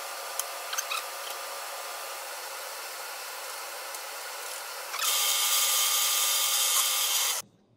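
Power drill boring holes through a sandblasted metal guard for a Bowie knife, a steady motor whine that jumps louder and brighter partway through as the bit bites, then stops abruptly.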